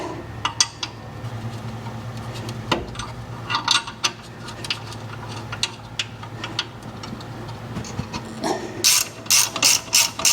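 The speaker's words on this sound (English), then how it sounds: "you need to just put your wrench on there and start spinning it through" Hand wrench ratcheting on a bolt at the rear shock of a Toyota Tundra, with quick irregular bursts of metallic clicks close by, growing into rapid sharp ratchet strokes near the end.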